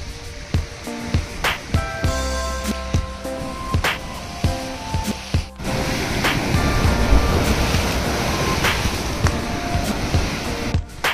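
Ocean waves break and wash along the beach at Hutbay, Little Andaman, a steady surging roar with repeated crashes, heavy wind buffeting the microphone, and no talking.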